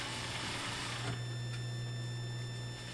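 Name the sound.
sewing machine stitching lining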